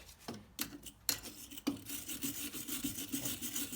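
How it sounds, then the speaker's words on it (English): A wire brush scrubbing rust and mud off the exposed threads of a car's steering tie rod beside a jam nut, heard as close, quiet rasping strokes, first a few scattered scrapes, then a steady back-and-forth rhythm. "Start with a wire brush and just clean up those exposed threads there really good."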